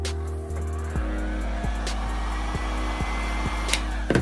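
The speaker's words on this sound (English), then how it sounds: "And then I will just take my heat gun." A heat gun on its low setting blows a steady, close hum while heating a picture applied to a Nike Air Force 1 sneaker, with a few soft clicks and knocks over the airflow.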